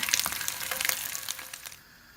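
Eggs fry in oil for an egg bhuna, a bright crackling sizzle close up that stays busy and then drops away abruptly near the end.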